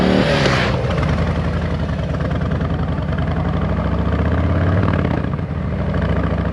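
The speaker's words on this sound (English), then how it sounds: "that classic V-twin sound in all its glory" A Harley-Davidson Sport Glide V-twin motorcycle engine rumbles with a deep, loping, uneven idle and a quick rev at the start, close and loud throughout.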